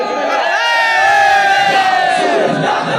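A large crowd at a religious gathering chanting a slogan in unison, loud massed voices rising and sustained together as one drawn-out call, close and filling the space.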